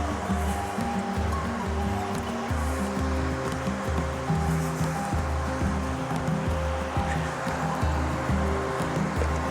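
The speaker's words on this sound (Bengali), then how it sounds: "এই জলে কিন্তু ভালো ঢেউ আছে" Sea waves at New Bakkhali beach make a steady, loud rushing roar that never lets up, with a low, blocky rumble running beneath it throughout.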